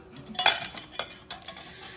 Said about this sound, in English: And here are my tart pans. They're removable bottom,